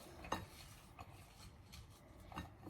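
Boiled potato, onion, spice powder and salt for pani puri are mixed in a bowl, giving faint, sparse clinks and soft scraping of a spoon against the dish, quiet and close.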